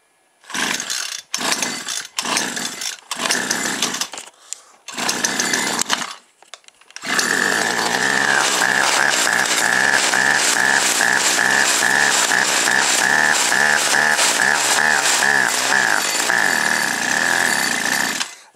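A brush cutter engine with its carburetor removed sputters through several short pull-start attempts, then catches and runs loud and steady for over ten seconds.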